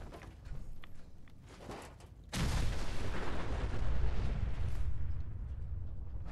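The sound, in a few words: explosions in the video game Fallout 4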